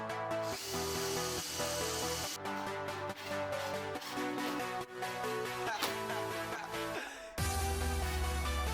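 A power drill drives screws down through jointed wooden sign boards set in a jig, buzzing in several bursts separated by short pauses, faint and distant.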